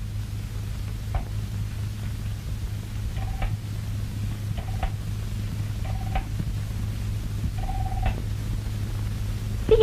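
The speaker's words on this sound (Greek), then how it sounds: "Μπορώ να κάνω τηλεφώνημα?" An old telephone being dialed for a call, a run of faint repeated ticking and ringing tones set over a steady low hum, with no talk.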